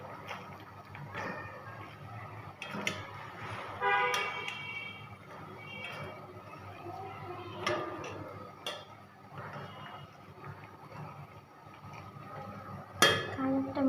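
Chotpoti being stirred in a pan with chotpoti spice added, a steady scraping and clinking of a utensil against the metal with sharp knocks at intervals, close and continuous throughout.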